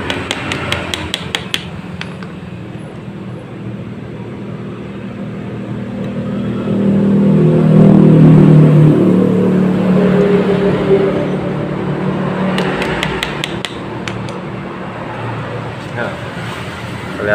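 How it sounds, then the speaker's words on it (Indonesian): Metal tapping from a hand chisel working slowly to remove a broken pilot jet from a carburetor, with sparse sharp taps at the start and near the end under steady background rumble and a voice talking. "pahat pelan-pelan ya."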